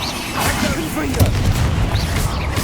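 Confringo fire-blast spell going off in Hogwarts Legacy, a booming burst with rumbling explosive crackle amid spell-casting and combat noise, loud and close, with a voice speaking over it.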